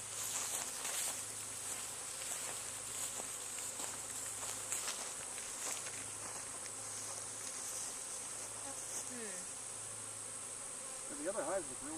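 A honeybee swarm on a hillside during a swarm capture, giving a steady, dense outdoor buzz throughout with individual bees passing close now and then.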